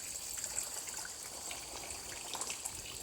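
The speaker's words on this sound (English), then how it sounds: "Intake bay is flowing all the way through here to the return. The waterfall's still looking great." Water from a small waterfall trickling steadily into a mossy garden pond, a faint continuous splash and dribble with no voices.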